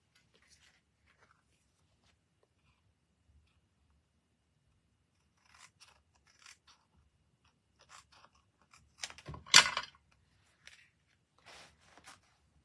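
Scissors snip paper for a Christmas card in a few scattered, quiet cuts with a louder crunchy burst near the end, close up in an otherwise near-silent room.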